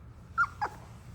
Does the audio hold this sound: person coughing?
no